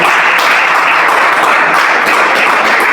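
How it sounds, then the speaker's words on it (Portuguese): A church congregation claps for Jesus during a Portuguese-language sermon, a dense, steady wash of hand claps filling the whole stretch at a loud, even level. "De palmas para Jesus."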